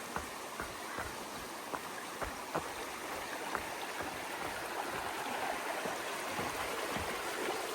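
A muddy, rain-fed creek on a trail flows in a continuous, close rushing hiss, with occasional soft thuds or splashes scattered through the steady water.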